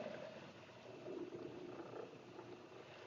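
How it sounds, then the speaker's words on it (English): A small electric motor runs steadily, mixing sugar syrup for feeding bees, a continuous even whir with a faint liquid churning, moderately quiet and with no talk. "I'll let this run, and the motor has one higher setting."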